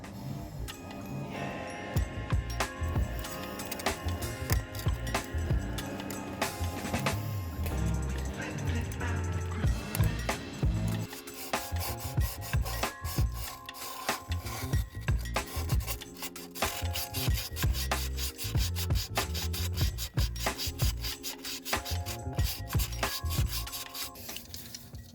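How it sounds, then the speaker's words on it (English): A blade scraping old silicone sealant off the water pump mounting surface of an Alfa Romeo 1.4 engine during a timing belt job, heard as continuous rasping strokes in an uneven rhythm over about twenty-five seconds, close and fairly loud. "So I'm just gonna use the blade to scrape all of this off."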